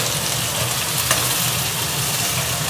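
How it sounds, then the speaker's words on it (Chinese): Pork belly searing in a hot pan on a home gas stove, rendering its fat with a dense, steady sizzle and crackle, loud and close and continuous throughout. "五花肉先每一面給它煎一下，逼出油脂"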